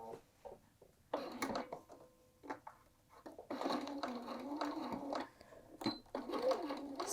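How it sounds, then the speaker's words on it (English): Home sewing machine stitching in the ditch through a quilted jacket hood and binding, running in short bursts and then longer steady runs, close and moderately loud, with brief pauses between. "we'll head over to our machine and we're just going to stitch right in the ditch"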